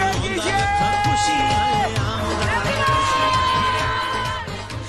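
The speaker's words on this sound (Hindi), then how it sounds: "आप अपनी हूटिंग से एक बार सेलिब्रेट कीजिए।" A studio audience hooting and cheering in celebration, loud and close, with overlapping yells, whoops and shouted voices that fade slightly at the end.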